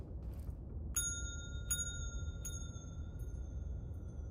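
A video game bell rings three times at an even pace, each bright metallic strike ringing out with a long sustain over a steady low rumble, with the last one fading slowly.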